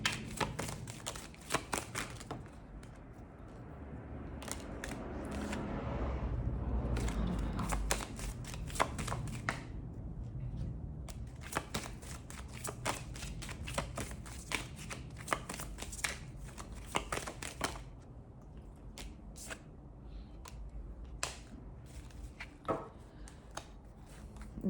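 Playing cards are shuffled and dealt into piles for a love and relationship tarot reading, giving repeated crisp riffles and sharp snapping taps, close and fairly loud, with no voices.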